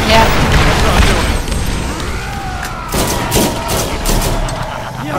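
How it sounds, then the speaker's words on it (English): Grenades burst and gunfire rattles in a looter-shooter video game battle against skags and bandits, a loud continuous barrage of booms and rapid shots with several distinct blasts toward the end, with a player talking over it. "I'm just gonna chuck all the nades at him."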